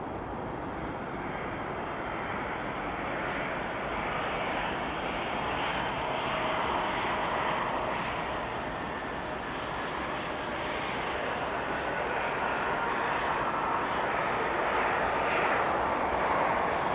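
Engines of a heavy Qatar Airways jet at Edinburgh Airport roar steadily and loudly, a broad continuous rumble that swells slightly over the span, with no voices.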